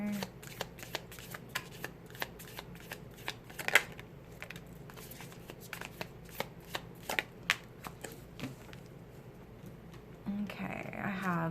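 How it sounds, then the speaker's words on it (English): Island Wellness oracle cards being shuffled in a quiet room, a steady run of crisp riffling snaps and soft slaps close by, ending in a louder rustle. "let's pull some of these Island Wellness cards here"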